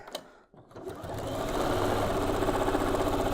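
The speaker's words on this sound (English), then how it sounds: "I'm going to sew 1/4 inch away from that drawn line" Sewing machine stitching quilt squares, starting after a brief pause and then running in a steady, close, continuous motor hum with a fast needle rhythm.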